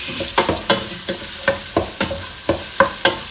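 Ginger sautéed over medium-high heat in a pan, the start of a Filipino mussel tinola, with a spatula stirring and scraping in a steady rhythm about every half second over a soft continuous sizzle.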